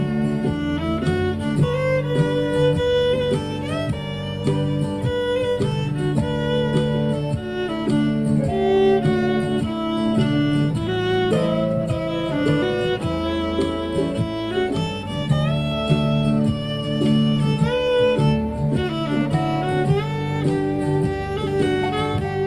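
A fiddle plays a melody of single, sustained bowed notes one after another, clear and unaccompanied, at a steady unhurried pace.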